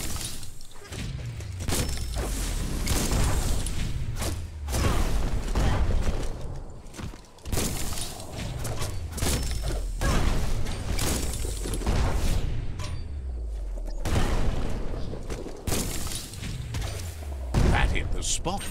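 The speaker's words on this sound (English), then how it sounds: "That's a bomb lobber." Bomb lobber weapon blasts in the video game Biomutant, repeated heavy booms and shattering impacts, with a deep thud falling away after each, under continuous game noise and a voice talking.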